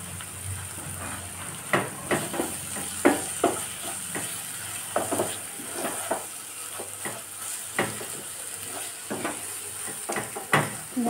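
Masala spices for ghugni fry and sizzle in a pan with turmeric added, stirred with a utensil that scrapes and taps the pan every second or so against a steady hiss.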